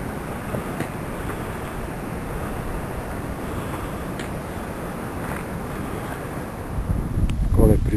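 Strong wind gusts over an exposed Himalayan trekking route near Chukung on a cold autumn morning, a steady broadband roar with buffeting on the microphone that swells louder toward the end.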